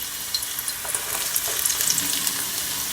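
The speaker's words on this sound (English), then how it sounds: "I'm just gonna allow it to saute just for a couple of seconds." Onions, garlic and spring onions sautéing in a pot of hot vegetable oil for fried rice, a loud, continuous crackling sizzle with brief stirring scrapes, close and without talk.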